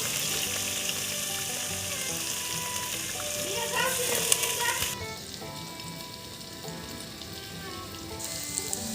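Dried red chilies, chopped onion and whole garlic cloves frying in hot oil with a continuous crackling sizzle and brief stirring, settling into a softer hiss after a few seconds.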